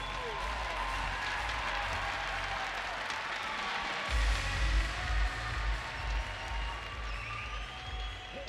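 A large arena crowd applauds and cheers at the 2013 Bassmaster Classic weigh-in, a dense, steady roar of clapping that swells louder about halfway through, with voices mixed into the noise.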